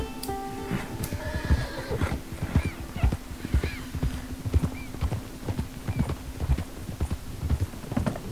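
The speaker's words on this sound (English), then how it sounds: "that's someone's horse" Horse hooves clip-clop at a steady walking rhythm in the Red Dead Redemption 2 video game at night, close and clear, with a horse whinnying near the start. No voices.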